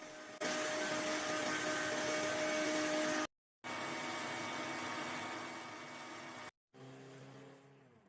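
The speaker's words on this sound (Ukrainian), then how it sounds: "Поки збиваються яйця з цукром" An electric hand mixer whirs steadily while beating eggs with sugar for an apple pie batter, a loud, even motor drone that cuts out twice briefly and returns slightly lower in pitch.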